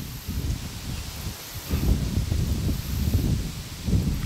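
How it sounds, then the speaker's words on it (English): Wind moves through woodland leaves near a cornfield on a breezy day, a continuous soft rustle with low rumbling gusts swelling around the middle and again near the end. "It's a pretty windy day."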